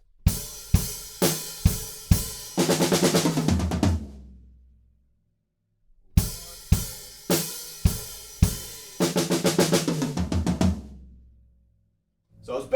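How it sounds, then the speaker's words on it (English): A drummer plays a rock pattern twice, each time ending in a rapid fill of 32nd notes rolling from snare across toms to floor tom, the quick hits blurring together before ringing out into brief silence. "we're playing 30-second notes quite quickly around the kit"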